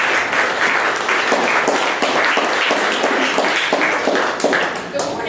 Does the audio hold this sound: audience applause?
yes